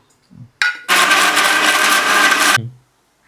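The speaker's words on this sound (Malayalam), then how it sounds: "അപ്പൊ നമ്മളിത് മിക്സിക്കകത്തോട്ട് അടിക്കുകയാണ് കേട്ടോ" A mixer grinder blends cooked pineapple for an Onam pineapple pachadi: a short whir, then a loud, steady roaring grind for nearly two seconds that stops abruptly; no speech.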